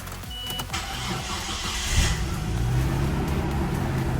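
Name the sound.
Nissan Skyline R33 GTS25T turbo car engine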